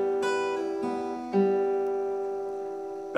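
A drawn-out phrase of a melody on acoustic guitar: a few plucked notes with long, sustained ringing tones, played slowly and close up with no talking, ending on a fresh pluck.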